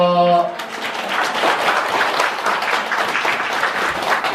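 Applause from those gathered at a Buddhist temple sutra lecture, a broad, sustained wash of clapping that follows a short sung or spoken note and carries on steadily to the end.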